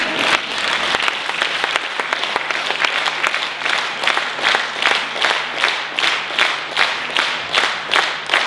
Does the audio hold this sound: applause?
yes